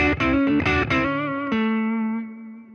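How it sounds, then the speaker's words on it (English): Guitar driven through a Distortion 3 pedal plays a burst of chunky distorted chords, then a freshly struck chord rings out and holds, slowly thinning; loud and up close with no speech. "And this is the Distortion 3."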